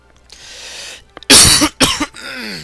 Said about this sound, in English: Got a little bit of a cough going on here.